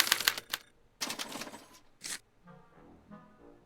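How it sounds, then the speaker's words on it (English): A special typewriter in the Back to the Future video game prints out a punch card: sharp mechanical clatter in several quick bursts, followed by quieter tonal whirring. "they're relayed to this special typewriter, which prints out a punch card that represents the subject's mind map"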